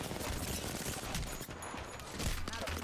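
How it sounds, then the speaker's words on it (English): Dense, sustained gunfire in an Apex Legends match, a continuous clatter of shots filling the whole stretch with a brief dip midway, loud and close with no clear talk over it. "I'm getting shot in the back!"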